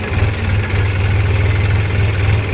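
A tractor engine idles and runs steadily up close, a loud low rumble with a fast regular throb and no breaks, heard alone without talk.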